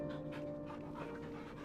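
A dog pants steadily in Final Fantasy XVI, quick rhythmic breaths over a low background hum, faint and close.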